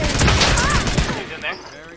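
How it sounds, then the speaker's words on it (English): Rapid gunfire from a shotgun in a multiplayer shooter game, a loud burst of shots up front that fades into quieter game noise, with a player talking over it. "Going in hot with the shotgun."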